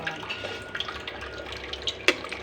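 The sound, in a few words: pouring cold water over boiled vermicelli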